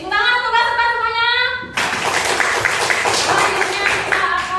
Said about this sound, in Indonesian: Oke, tepuk tangan untuk kelas semuanya.